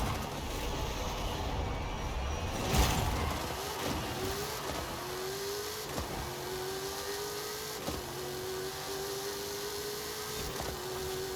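Steady, droning engine whine of a drag car accelerating down the strip in Forza Horizon 5, pitch rising slowly and smoothly over several seconds with a few faint clicks, moderately quiet and continuous without speech.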